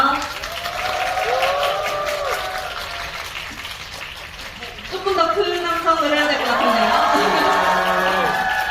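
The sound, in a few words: audience applause welcoming actors on stage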